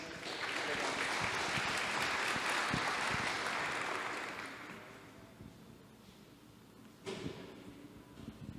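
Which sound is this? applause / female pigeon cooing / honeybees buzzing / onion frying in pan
applause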